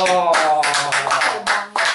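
An audience at an Indonesian career talk show claps in short bursts of a few seconds, mixed with a nearby speaking voice throughout.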